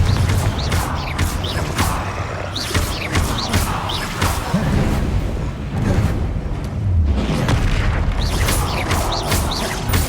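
Repeated booming blasts of the Confringo explosion spell in a Harry Potter video game, dense crashing impacts recurring across the stretch over a busy game soundscape, loud and close.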